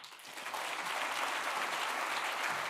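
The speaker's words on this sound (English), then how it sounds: "deserves another round of applause" An audience at a Hong Kong forum on new opportunities claps after a speech, a dense, even burst of applause that swells in quickly and holds steady.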